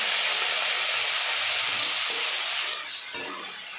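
Helencha greens frying in a pan with potatoes, giving a loud, steady close-up sizzle and hiss that eases slightly toward the end, with a couple of faint stirring knocks.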